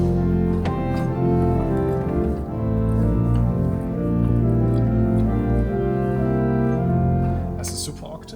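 Principal stops of the Bruckner pipe organ in St. Florian church, Austria, play a sustained full chord that holds steady and loud, swelling slightly, with no voices.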